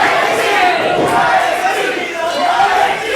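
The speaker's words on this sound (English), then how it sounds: "And the crowd is roaring with referee Ryan T chants." Wrestling crowd roars loudly at an iWrestle show, a thick sustained wall of cheering and yelling voices with rhythmic chanting for a referee rising and falling throughout.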